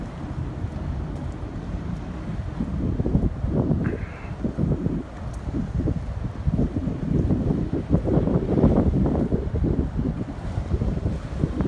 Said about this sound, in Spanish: Ya prendieron los motores.